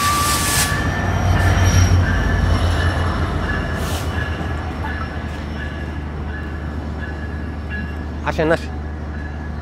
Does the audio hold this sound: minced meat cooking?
no